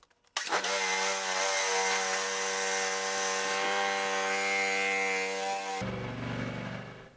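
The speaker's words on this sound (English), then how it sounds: "I'm going to let this engine run about 3 to 5 minutes just to warm up the oil inside" A Cub Cadet lawn mower engine starts and runs at a steady, loud idle to warm its oil, a continuous buzzing drone that shifts to a rougher tone near the end.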